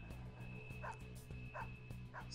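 Dog enemy barking in Persona 5 Royal: repeated sharp yips and barks at a steady rhythm, sitting over a constant low game music loop.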